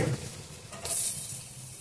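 Onions dropped into hot oil for a veg jalfrezi, giving a brief soft sizzle with a small surge of hiss midway, close and quiet with no talking.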